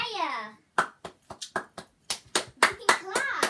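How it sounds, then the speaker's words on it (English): A child claps hands at a kids' gym show, a string of sharp, uneven claps close by, with a voice heard at the start. "He can't talk, but he can clap."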